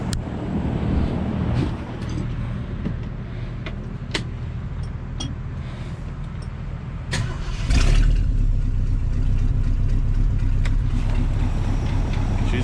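A 1967 Ford Galaxie with a 390 V8, running after being parked 35 years, idles low and steady nearby, its rumble continuous beneath scattered clicks and a brief surge partway through.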